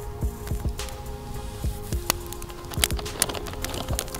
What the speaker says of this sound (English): Can you hear the fire?